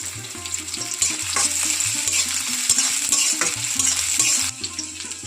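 Chopped medium onion frying in oil in a pan, a steady close sizzle with stirring scrapes over low background music, no talking.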